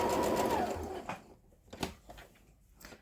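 A sewing machine stitches down T-shirt fabric in a short loud whirring burst, then stops, leaving a few faint clicks and handling noises nearby.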